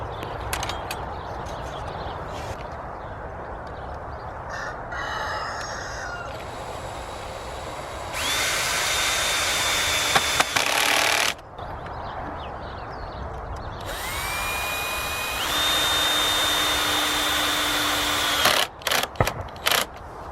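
A power drill drives screws into a wooden frame for garden crops, with two sustained whirring bursts of rising pitch that hold steady and then stop, separated by quieter handling noise nearby.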